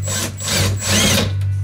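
A power drill bores into a brand-new gas tank, a close, loud grinding whir in two long surges with a brief dip between them.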